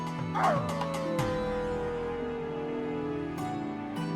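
A dog whines and yips in high, drawn-out cries, one long wavering whimper sliding downward, fairly close and clear.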